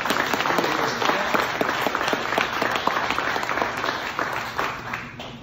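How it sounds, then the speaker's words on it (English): A crowd at a campaign event for a US Senate candidate applauds police officers, a dense steady wash of clapping lasting several seconds before fading slightly. "We should be giving them a round of applause."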